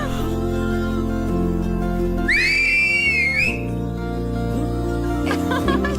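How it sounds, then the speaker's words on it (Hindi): A person whistles with fingers in the mouth, giving one shrill, sustained whistle that lasts about a second and bends slightly in pitch over steady background music. "अब बजी ना सीटी।"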